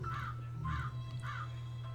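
Crow cawing three times at an even pace in the video game Runaway: A Twist of Fate, harsh repeated calls over a steady low hum, faint and alone without talk.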